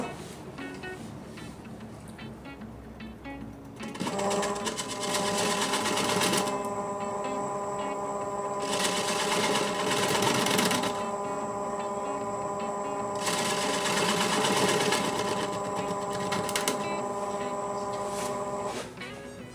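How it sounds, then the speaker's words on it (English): A spindle on a wood lathe is cleaned out with a 1/4 inch spindle gouge, the lathe humming steadily with a tonal whine, then a rough scraping cut swells and fades in several passes, close up. "Now I'm going to try cleaning that out just a little bit with my 1/4 inch spindle gouge."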